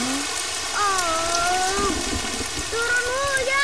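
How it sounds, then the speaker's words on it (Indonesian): Steady rain pours down in a cartoon for young children, a constant hiss with no talking, while a high wavering musical tone glides above it. "Turun hujan. Hujan turun."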